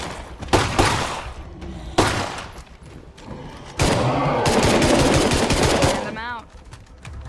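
Heavy automatic gunfire in the State of Decay 2 video game, loud and close: sharp bursts, then a long sustained rattle that tails off, with a voice speaking briefly over it.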